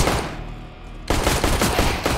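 Counter-Strike gunfire: a muffled lull, then an abrupt dense burst of rapid automatic shots that continues loudly to the end.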